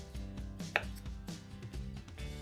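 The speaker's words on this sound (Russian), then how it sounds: "Запеченную свеклу нарезаем пластинками, а затем небольшими кубиками." A knife chops baked beetroot into small cubes on a board, a quick series of close, crisp taps in an irregular rhythm with no talking.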